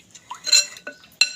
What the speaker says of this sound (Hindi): और अब हम इसको अच्छे तरीके से इस कॉर्नफ्लावर को इसमें मिक्स कर लेंगे ताकि इसमें कोई लम्स ना रहें।